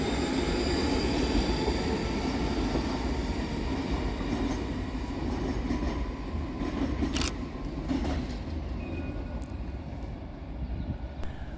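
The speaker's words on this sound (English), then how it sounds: "Whilst arriving on the near side is 385107 and 385104, with the 1832 Scotrail service from Glasgow Queen Street to Edinburgh Waverley." ScotRail Class 385 and Class 334 electric trains pass through Edinburgh Haymarket railway station, a continuous loud rumble of wheels and motors with a few brief squeals and clanks along the track.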